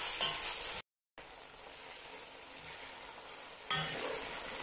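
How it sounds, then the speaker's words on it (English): Steady sizzling of onions and mustard frying in a pan, a continuous crackle with occasional stirring scrapes and a brief dropout. "There's the mustard and the onions frying together."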